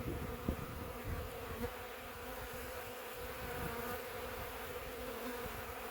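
A thick, continuous hum of honeybees crowds a brood frame lifted during a March hive inspection, the buzzing close and steady with a few faint knocks and no talking.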